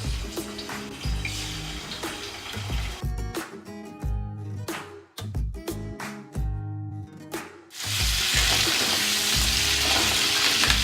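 Pieces of quail frying in hot oil sizzle loudly and steadily, broken by a few sharp clatters and spatters midway before the hiss swells louder again near the end.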